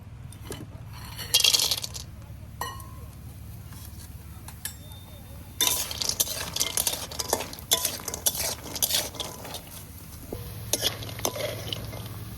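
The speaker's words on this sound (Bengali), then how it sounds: "এইখানে যতটা বড়ি নিয়েছি বড়িগুলো ভেজে তুলে নেব" Bori lentil dumplings frying in oil, with bursts of crackling sizzle alongside stirring, clinking utensils and pan knocks, heard close, with a soft voice now and then.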